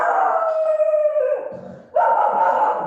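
A dog howls loudly and up close, a long sliding wail that dips and then rises again into a second sustained howl.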